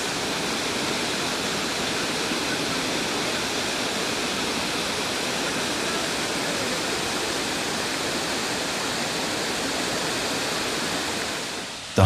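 Water at a forest waterhole where honey hunters wash off sticky honey, heard as a steady, broadband rush of flowing water that stays constant and fairly loud for the whole stretch, with no voices.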